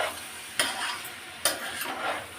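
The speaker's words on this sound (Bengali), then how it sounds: "এই তো চালটা একদমই ভাজা ভাজা হয়ে গেছে।" Uncooked rice frying in a pan, a steady soft sizzle with two sharp scraping strokes of a spoon stirring the grains, close up and without talk.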